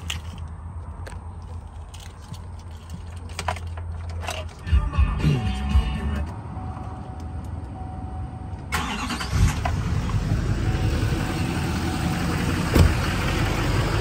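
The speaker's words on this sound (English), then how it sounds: "And then I'm gonna go ahead and start the truck for you." A Chevrolet Silverado 3500 pickup truck, untuned, cranks and fires up, then settles into a steady rumbling idle close by, with some handling noise before the start.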